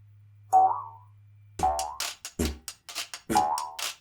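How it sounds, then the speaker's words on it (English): Jaw harp plucked for a jumping fox cartoon, giving four twangy boings with quick falling pitch, each short and close, separated by brief silences. "I was just thinking of a boinging sound, so to go along with the fox every time the fox jumps. So I've got just the jaw harp for that."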